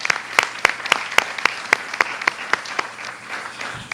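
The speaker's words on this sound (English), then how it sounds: "I also do want to give a round of applause to the men and women at FWC that keep us safe." An outdoor audience at a beach gathering claps in honor of state wildlife commission staff, a steady rhythmic applause of fairly close, crisp hand claps tapering off near the end.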